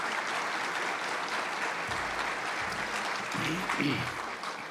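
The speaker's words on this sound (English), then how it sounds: "So I'm going to ask for a gentle round of applause for those colleagues" A gentle, steady round of applause from the audience at a university chancellor's leadership awards evening, honouring colleagues who organised the event, with a brief low voice near the end.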